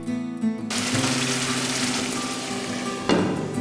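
Shrimp frying in a covered pan for Bengali chingri malai curry, giving a steady, dense sizzle that holds throughout, with a brief clatter near the end.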